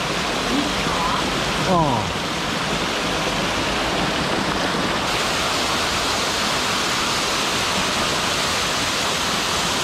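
A waterfall in a mountain gorge rushes with a steady, broad hiss close by, while a person briefly murmurs and a short whistle-like sweep rises over it early on.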